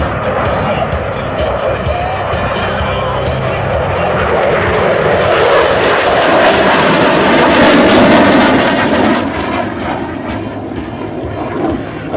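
A Eurofighter Typhoon jet performs a dynamic flight display at an air show in Piešťany, its loud roaring engine swelling to a peak and then easing as it passes.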